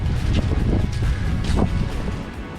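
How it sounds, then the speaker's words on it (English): Loud, gusty wind of 50 mph gusts batters the microphone in continuous low roaring bursts in open wilderness, with no voices present. "It's also really windy, you can't hear. 50-mile gusts, 50 mile an hour"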